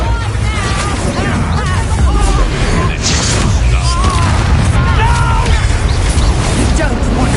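Bombarda spell blasts from the video game Hogwarts Legacy, loud booming bursts amid dense battle clutter, with a voice shouting over the chaotic, continuous mix.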